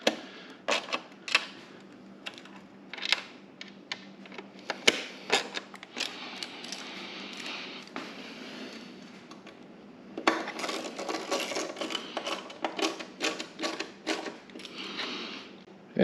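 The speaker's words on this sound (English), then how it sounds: "tighten all the bolts back up that we loosened up to take this tray out" Bolts are tightened back onto a tray during a GTS Radion installation, giving a steady run of close metallic clicks and clinks, with a denser busy stretch toward the end.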